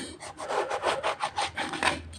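A knife that is not very sharp slices eggplant into small pieces on a board. About a dozen rhythmic, close strokes come in quick succession, each with a soft rasping scrape.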